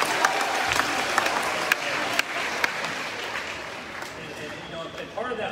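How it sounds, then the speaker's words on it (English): Audience applause for the pep band at a high school awards program, steady and moderately loud with scattered sharp claps, tapering slightly toward the end. "Everybody give a round of applause to the pep band, by the way."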